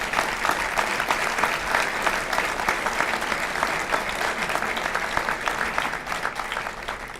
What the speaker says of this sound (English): we'd like to give them all a round of applause